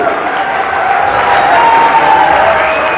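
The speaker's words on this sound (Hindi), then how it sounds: "एक बार तालियां लगना चाहिए" Applause from an audience at a Hindi speech event, a dense and continuous sound of clapping hands with some crowd noise mixed in, holding loud and steady throughout.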